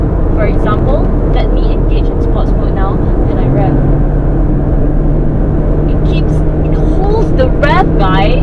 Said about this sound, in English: let me engage in sports mode now, and I rev